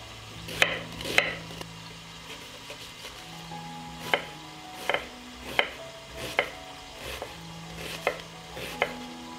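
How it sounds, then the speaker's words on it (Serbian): Onions are finely chopped with a knife on a board while chicken fries nearby, giving a dozen or so sharp, irregular close knocks over a faint background sizzle, with no talking. "Dok se piletina prži, iseckat ću sitno 2 luka."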